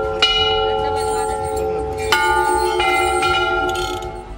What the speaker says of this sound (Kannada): ಇದು ದೇಗುಲದ ಗಂಟೆಗಳಲ್ಲಿ ಹೊಮ್ಮುವ ನಾದ